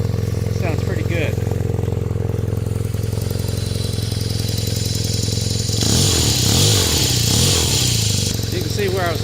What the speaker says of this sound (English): give you a little taste of what it sounds like here. It actually sounds really good with the stock muffler.